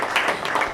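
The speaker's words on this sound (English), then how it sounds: "Did somebody clap?" A short, quick patter of a few hand claps from an audience at a tech talk, lasting under a second.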